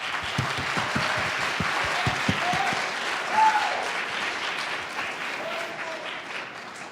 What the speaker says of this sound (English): can we give Troy a nice applause?